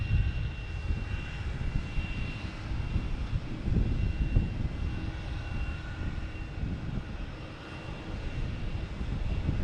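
A JetBlue Embraer E190 jet roars steadily at Boston Logan Airport, a broad continuous engine rumble holding at moderate loudness throughout with no voices.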